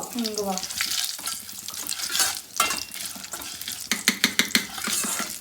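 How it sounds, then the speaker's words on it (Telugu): Green chillies and asafoetida fry in hot oil with a steady broadband sizzle, broken by a brief voice early on and a run of sharp spoon scrapes against the pan near the end. "సో ఇప్పుడు ఇవి మొత్తం మంచిగా ఫ్రై అయినాయి కదా"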